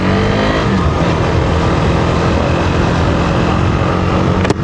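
A Husqvarna Svartpilen 401 motorcycle accelerates steadily out onto the road, its engine a loud, continuous close roar with wind rush throughout and no talk.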